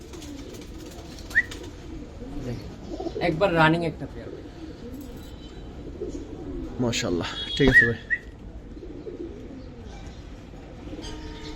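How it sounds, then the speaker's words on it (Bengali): Silver Giribaz pigeons at a farm give soft throaty coos now and then, close by, under frequent conversational talk from men nearby. "কবুতরগুলোর কোয়ালিটি দেখেন একেবারে বুট ফুটের কবুতর"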